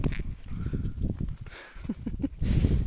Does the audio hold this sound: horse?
yes